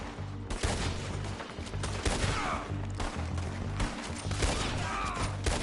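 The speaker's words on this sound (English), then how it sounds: "Told you I could shoot a gun, didn't I?" Gunshots in Red Dead Redemption II, a western-era shootout with repeated sharp cracks from several guns over a steady game backdrop, fairly loud and continuous.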